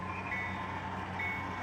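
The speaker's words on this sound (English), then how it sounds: "Fred, there's a train here." An HO scale model train runs on a large home layout, a steady close rolling hum with faint high squeal, continuous for under two seconds with no talk.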